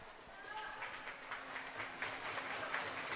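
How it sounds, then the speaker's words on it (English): A crowd at a women's NCAA hockey game applauds an injured player as she gets back up on her skates, a rolling wash of clapping that rises and falls in the rink. "A warm hand from the crowd for her."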